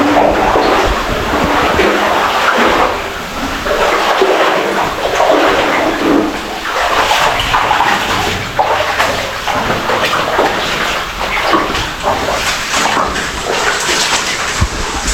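Steady wading through knee-deep floodwater at night, with continuous sloshing and splashing close by that keeps a fairly even rhythm of strides throughout, no talking.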